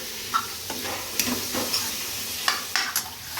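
A tadka (tempering) for sarson ka saag sizzles softly in a pan. Quiet frying hiss is broken by scattered crackles and stirring clicks, with no voices.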